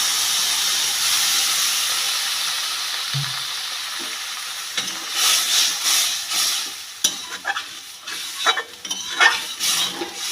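Water poured into a pan of vegetables already fried with spices for a green bean, potato and prawn curry sets off a steady loud hiss of steam, then the sizzle breaks into bursts and clatters as it settles.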